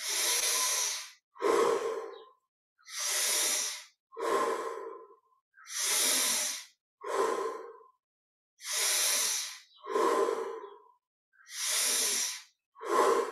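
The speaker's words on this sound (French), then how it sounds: "Encore 10 respirations, un peu plus d'air à chaque fois." Slow, deep breathing during guided meditation, close and clearly audible, alternating long inhales and exhales in a steady rhythm separated by silent pauses.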